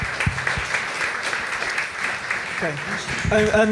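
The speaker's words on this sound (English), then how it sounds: "Big round of applause" Audience applause after a conversation event about photographer Vivian Maier, a short burst of clapping in a hall with a voice speaking through the end.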